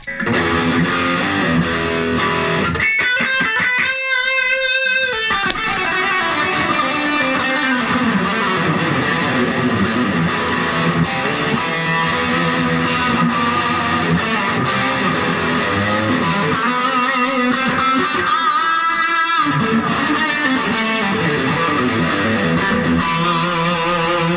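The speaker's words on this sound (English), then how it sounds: "with that amount of echo, there's not much of note definition going on either way" Electric guitar run through an echo pedal into a small practice amp, played continuously with heavy repeating delay trails that smear the notes, loud and close, with a few distorted chord stabs and no voices.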